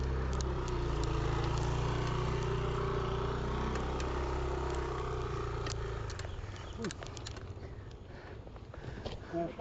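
Motorcycle engine labouring up a steep hill climb on the road to Curug Panjang waterfall, a steady droning rumble that fades after about six seconds into rustling and faint outdoor noise.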